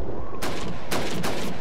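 Three loud gunshots ring out in quick succession, sharp and booming, over a constant rumbling background of a Call of Duty 2 video game firefight.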